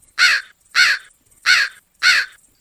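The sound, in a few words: people imitating crow caws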